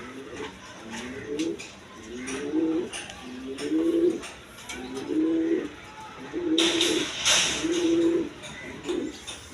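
A pair of red Gola-type pigeons coo repeatedly at a steady rhythm, nearby and fairly loud, while faint chirps and background noise rise toward the end.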